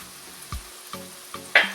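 Curry powder and ground black pepper hitting hot oil in a pan, a soft sizzle broken by a few stirring scrapes and a brighter hiss near the end.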